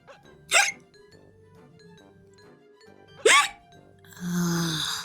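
A voice actor performs two sharp hiccups in a cartoon fandub, spaced a few seconds apart over a low background hum, followed by a short breathy vocal sound.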